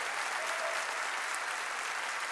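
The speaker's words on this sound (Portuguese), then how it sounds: "Pode aplaudir o Senhor?" Church congregation applauding during an evening Baptist worship service, a steady dense wash of many hands clapping at once, sustained and fairly distant, with no talk over it.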